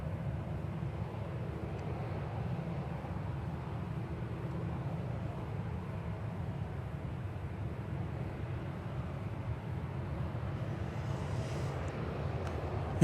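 An American Airlines Boeing 737-800 jet at DFW Airport gives a steady, continuous low engine roar that holds at a constant level throughout, with no talking over it.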